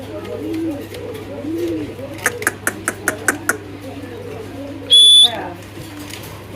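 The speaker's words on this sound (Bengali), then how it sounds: "আর এটা হলো নিওডেল কবুতর" Fancy pigeons coo softly in rounded, repeating phrases, followed by a run of quick sharp knocks and a brief bright whistle, all set against a steady low hum close by.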